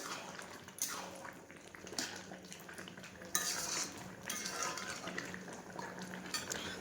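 Meat being stirred and cooked in a pot in a home kitchen, with steady scraping and clinking of a utensil against the pot over a continuous sizzle, close and moderately loud throughout.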